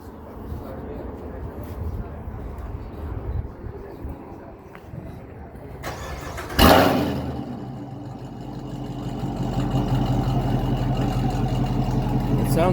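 A sports car with a custom exhaust and K&N cold air intake starts with a sudden roar at a car show, then settles into a deep, rumbling idle, with people talking nearby before and during.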